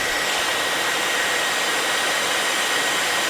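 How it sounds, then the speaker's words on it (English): A hair dryer on a low or no heat setting blows steadily on sponge hair rollers, giving a loud, even whooshing drone with no pauses or talk. "you can take your hair dryer and put it on a low or no heat setting and go like this"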